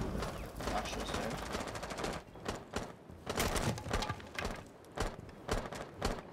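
Rapid bursts of automatic gunfire in Rainbow Six Siege, loud and close, crackling in uneven volleys with brief pauses between, while players chatter over the shooting.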